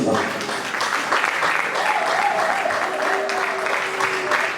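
An audience at an evening event applauds steadily and fairly loudly for several seconds, a dense wash of clapping with a faint voice or tone running underneath.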